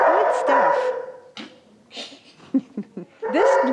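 At an animal shelter, a dog barks and whimpers in close, loud bursts, with yips and whines between the barks, plus some scattered quieter animal sounds in the pauses.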